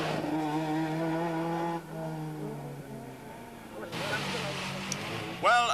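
Rally cars race through a stage of the 1991 West Cork Rally, their engines loud and close, revving hard and shifting pitch as each car passes, with a fresh burst of engine noise near the end.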